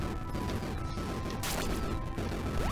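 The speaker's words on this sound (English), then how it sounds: "Explosions!" Explosions in the video game Dungeon Souls: dense, continuous crashing and smashing bursts with sharp hits throughout, loud and busy, with no talking.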